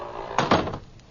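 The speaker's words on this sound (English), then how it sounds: "Door slammed by himself, too." A door slams shut in a radio drama, two quick wooden thuds close together, heard alone against a faint background hum.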